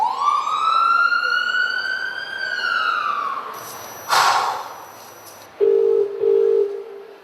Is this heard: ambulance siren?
yes